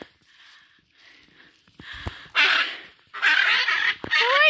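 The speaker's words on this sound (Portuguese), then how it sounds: "Arara azul." A hyacinth macaw in the Pantanal, Mato Grosso do Sul, gives loud, harsh squawks in several bursts after quieter calls, close and raspy.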